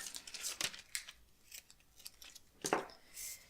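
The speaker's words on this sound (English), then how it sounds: "I'm going to cut a little bit of pom-pom trim." Scissors snip through pom-pom trim in a few crisp, close cuts spaced apart, quiet and alone at a craft table.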